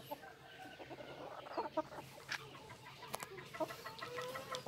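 Four-month-old black-legged Thai Pakoy fighting-breed chickens kept for breeding cluck repeatedly in a short, uneven series of close calls over low farmyard background noise.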